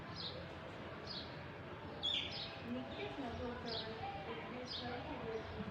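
Sparrows chirp in short high bursts around a house where rice is scattered for birds and a tarpaulin covers the tree nest, the calls recurring about once a second and fairly faint against steady background noise.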